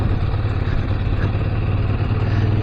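QJ Motor SRT 800 motorcycle engine on a test ride, a steady close mid-pitched drone with a low throbbing hum and no change in pitch, heard alone.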